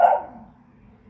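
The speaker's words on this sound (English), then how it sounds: "the other dogs are barking" A single dog bark rings out at the start in a dog park, then fades into a low background rumble for the rest of the second.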